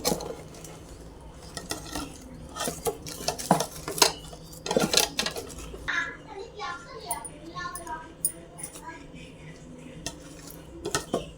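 A spoon works chili powder into cooked dal in a metal pot, producing repeated clinks and scrapes that come in uneven bursts, with someone talking over it and a faint sizzle underneath.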